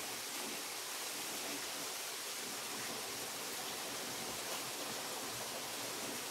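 Cold mountain spring water flows steadily at Sendang Bunton, a natural sacred spring on Mount Saptorenggo, making a continuous broadband rush that stays even and close throughout with no voices.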